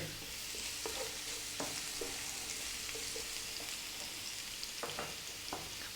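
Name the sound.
ginger and garlic frying with fennel seeds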